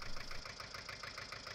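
A tractor engine runs steadily at idle, a rough, pulsing mechanical throb with a regular rapid beat, moderately close and continuous with no voices.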